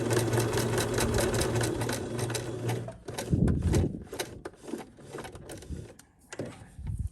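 A sewing machine stitching fabric for a craft project runs steadily up close, with a rapid mechanical whir that breaks into shorter, uneven bursts partway through as the stitching is backed up.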